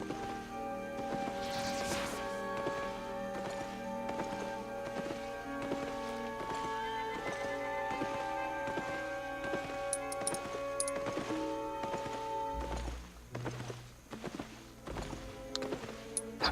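Horse mount hooves clip-clopping in the Albion Online game, a steady rapid patter running under looping music with sustained tones, continuing through most of the stretch before the music cuts away near the end.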